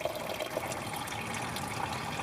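Coolant drains from a car's cooling system during a flush in a steady, continuous stream, a soft liquid splash and trickle heard alone at moderate loudness.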